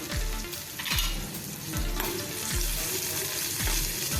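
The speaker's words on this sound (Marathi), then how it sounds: "कांदा थोडा आपण सॉफ्ट होईसपर्यंत परतून घ्यायचा आहे" A medium onion, thinly sliced lengthwise, sautés in a pan until soft. It gives a steady close sizzle with a spoon scraping through it in regular strokes about once a second, and no one talks.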